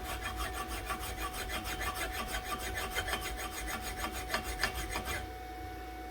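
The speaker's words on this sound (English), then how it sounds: "Now we got to grind the shaft side, this side here." A staked U-joint on a Honda CR-V drive shaft is ground down on the shaft side, giving a steady rasping, scraping grind in quick repeated strokes for about five seconds, then a sudden stop leaving a quiet hum.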